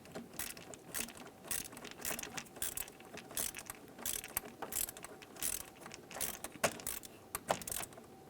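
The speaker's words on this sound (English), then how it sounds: "Start in your mounting bolts. Let's go ahead and tighten them." A ratchet tightens the mounting bolts of a new throttle position sensor on a 2002-2005 Ford Explorer, with rapid rhythmic pawl clicking in repeated strokes, close and clear, alone without talk.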